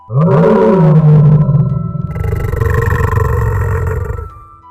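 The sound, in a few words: lion roaring loudly in cartoon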